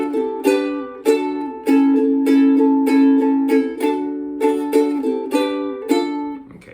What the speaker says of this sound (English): The strumming pattern is a wee bit tricky though, so let's have a look at that. It sounds like this.